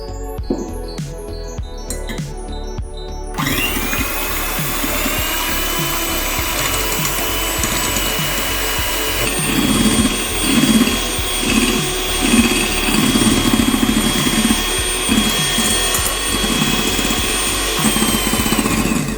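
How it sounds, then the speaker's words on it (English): An electric beater whips egg whites in a dry bowl, a loud steady motor whine and rattle running throughout after a few quieter knocks at the start. "We should beat egg whites until it's cloudy"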